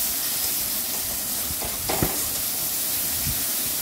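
Salt and turmeric with spices sauté in oil in a pan for a fish curry, a steady close hiss of frying with a couple of brief scraping stir sounds.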